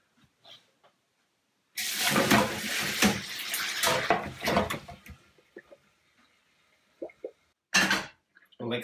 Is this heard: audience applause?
no